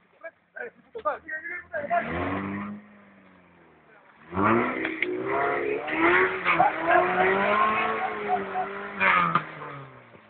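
A Lada car driven off-road revs hard in short blips, then gives a longer surging acceleration with tire skidding. The engine is loud and close and rises and falls in pitch.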